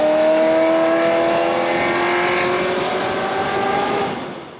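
A Ferrari F355 engine screams at high RPM, its sharp, high-pitched exhaust note holding steady and loud with rising harmonic tones before easing off slightly at the end.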